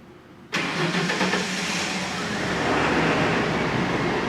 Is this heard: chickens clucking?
no